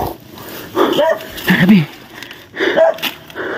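A dog gives short barks and yips nearby, a few scattered bursts amid rustling outdoors, mixed with people talking.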